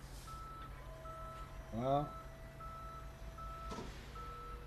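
A tow truck in Police Simulator: Patrol Officers sounds a steady series of high reversing beeps at a distance, while someone speaks briefly over the low traffic background.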